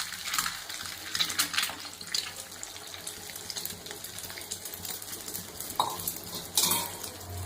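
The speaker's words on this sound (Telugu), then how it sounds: "ఇప్పుడు 3 ఎగ్గులు అయితే కలిపి పెట్టుకున్నాం" Three eggs being beaten in a bowl for an omelette, with steady, close scraping and clinking of a utensil against the bowl and bursts of louder stirring, no talking.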